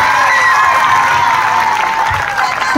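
Loud, dense applause and cheering from an audience at a live mimicry stage show, sustained throughout without a break.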